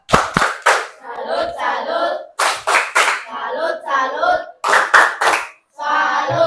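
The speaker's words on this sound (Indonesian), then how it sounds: "Berarti tepuk salut." A classroom group performs a rhythmic salute clap routine, tepuk salut, after a group discussion presentation: sharp, loud bursts of synchronized claps alternating with chanted group vocal phrases, repeating in three cycles.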